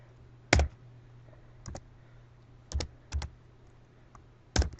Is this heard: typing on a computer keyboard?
yes